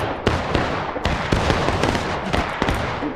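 Infantry gunfire in the Ghosts of Antietam video game during an East Woods battle: a continuous crackle of musket volleys with sharp, loud shots every half second or so over a dense, noisy din.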